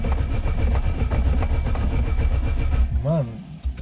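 A Chevrolet Celta's starter cranks its engine over and over on gasoline injection while it struggles to start. A loud, rhythmic churning runs for nearly three seconds, then cuts off as a brief voice sounds.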